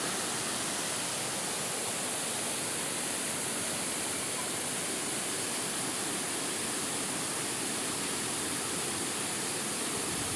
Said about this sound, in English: the drop of the water is so relaxing.